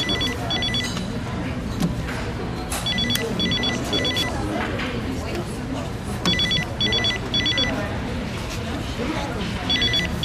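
A telephone rings repeatedly in short double-trill bursts behind a dense, noisy background, with people talking throughout.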